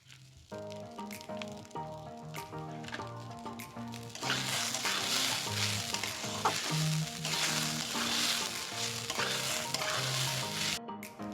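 Rice frying in ghee for basanti polao, stirred continuously in a pan, giving a loud, steady close sizzle with repeated scraping and clinking of the spoon, while background music plays throughout.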